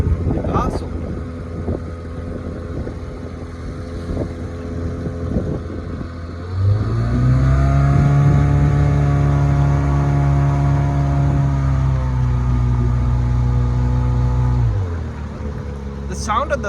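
A Johnson 4 hp two-stroke outboard engine on a small boat idles with a low burble, then revs up into a loud, steady drone for several seconds before dropping back, with wind buffeting throughout.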